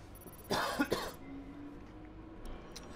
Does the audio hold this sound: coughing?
yes